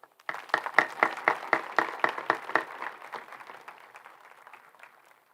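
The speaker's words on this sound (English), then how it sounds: "please applaud." A graduation audience at a 2021 stadium ceremony applauds, with rhythmic claps rising suddenly, then fading into a softer, more scattered patter that trails away.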